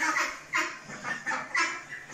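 Ducks raised on an azolla and feed diet call out in about four short, bright honking quacks, evenly spaced and fairly close, with no voices over them.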